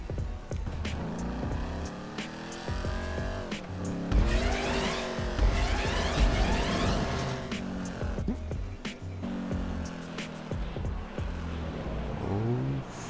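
A Vigero car in GTA 5 roars through a parkour course with engine revs that rise and fall, repeated tire squeals and skids, and loud throttle surges, close and continuous with faint voices in the background.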